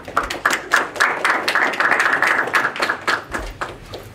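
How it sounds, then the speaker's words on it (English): People at a town board meeting clap together in a steady, close, crisp round of applause lasting several seconds, with no talk over it. "We'll clap first."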